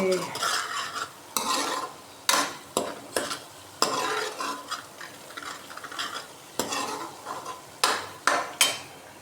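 Masala for a white chickpea curry roasting in a pan, a steady frying sizzle broken by repeated sharp scrapes and knocks of a spoon against the metal, close and fairly loud, no voices.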